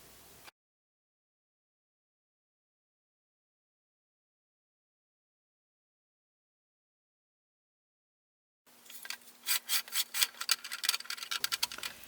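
Clay sugar bowl being trimmed on a potter's wheel, held in a Giffin Grip. After a long stretch of silence, about three seconds of close, rhythmic scraping and rubbing builds near the end.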